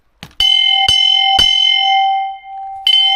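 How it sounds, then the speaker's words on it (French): A large bell struck on a hiking trail in Joshin'etsu Kogen park to warn off bears rings out with four loud, ringing clangs, each leaving a long sustained tone between strikes. "Il y a une grosse cloche."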